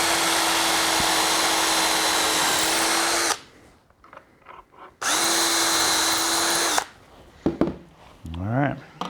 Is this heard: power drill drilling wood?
yes